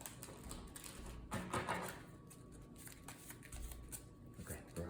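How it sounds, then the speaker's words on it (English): Playing cards are shuffled for a tabletop card game, a quiet rapid riffling and tapping close by, faint and without talk. "so we gotta shuffle this back up"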